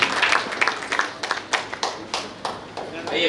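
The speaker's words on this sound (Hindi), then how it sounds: "तालियां बजाइए मिस्टर चंद्रशेखर चौहान को" Audience clapping for a lucky winner at a hospital walkathon event in Nagpur, India, with scattered uneven claps at moderate level and voices talking over them.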